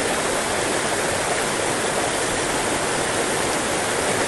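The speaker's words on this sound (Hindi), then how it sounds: "ये वाटरफॉल है, प्यारा सा वाटरफॉल जिसमें बिल्कुल कुल कुल कुल कुल कुल करके नाद से पानी गिर रहा है" A waterfall in a dense forest roars as a steady, loud, broadband rush of falling water, continuous and unbroken, with no voices over it.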